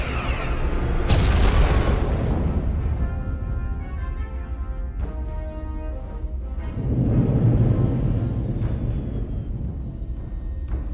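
Starship weapons fire and explosions rumble in Star Trek Resurgence during a space battle, with heavy booming bursts and a sustained low roar that swells again midway, loud and continuous without talk.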